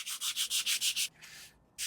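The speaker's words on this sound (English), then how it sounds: "So we're not going to go crazy with sanding the inside of the box" Hand sanding the inside of a wooden box with sandpaper: seven quick, even back-and-forth rubbing strokes, then one longer, softer pass and a final stroke, close and isolated.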